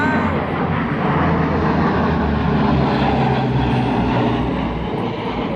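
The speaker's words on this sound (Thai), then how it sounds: "เครื่องบิน แต่มันบินต่ำได้หมดเลย" A loud, broad rumbling roar of a low-flying airplane fills the whole stretch, steady and close, with no speech.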